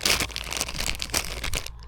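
Fishing groundbait is mixed by hand inside a plastic bag, giving a close, continuous crinkling and rustling of plastic with repeated sharper crunches throughout.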